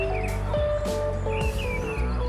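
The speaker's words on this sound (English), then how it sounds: "Just stay quiet and listen to the birds in the background." Birds sing in Queens Park, Crewe, in early spring, several bright chirps and whistled phrases coming in short bursts over a steady low background hum, with no talk.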